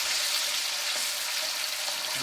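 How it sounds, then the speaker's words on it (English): Meat coated in cornstarch sizzling in a hot pan as it is stir fried, a dense, loud, steady hiss of frying without any pause. "And keep it moving. It's called stir fry for a reason."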